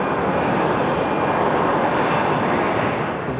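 Loud, steady roar of the Lockheed X-35B's jet engine, a dense broadband rush holding constant with no pauses throughout and nothing else audible.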